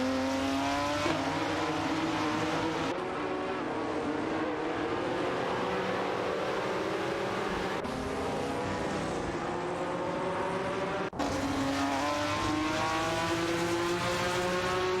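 AI race cars in a video game, a 1969 Dodge Charger Daytona dueling a Ferrari 250 GTO, give sustained engine howls that rise through the gears. Each gearshift brings an abrupt drop in pitch before the engines climb again.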